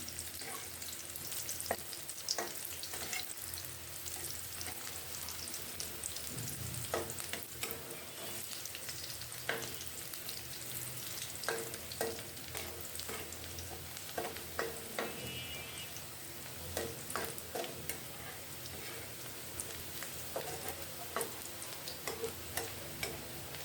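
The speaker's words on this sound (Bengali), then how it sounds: "পেঁয়াজটা ভাজা হয়ে গেছে" Onions fry quietly in a pan for a red spinach stir-fry, a faint steady sizzle broken by scattered sharp clicks and taps of stirring, with no talking.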